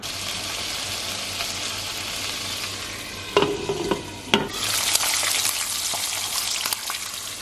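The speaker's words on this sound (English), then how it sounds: "I'm gonna go ahead and fry up some bacon" Bacon frying in a pan for keto meal prep, a steady broadband sizzle running throughout with a few brief clinks and scrapes midway, close and moderately loud.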